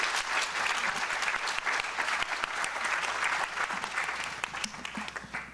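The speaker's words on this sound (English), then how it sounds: "Give Vincent a big round of applause" An audience at a public-service celebration gives a steady, dense round of applause, a continuous wash of many hands clapping at moderate distance with a faint crowd murmur.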